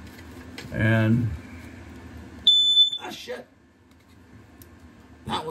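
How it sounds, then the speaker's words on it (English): Smoke detector alarm giving a loud sharp electronic beep at close range, preceded by a rumbling clatter and followed by quieter handling sounds, with someone speaking briefly. "Is there another smoke detector down here?"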